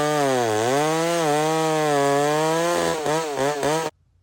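A McCulloch 125 big-timber chainsaw runs loud and close, its engine droning steadily and then wavering in pitch as it works through wood, before cutting off abruptly near the end.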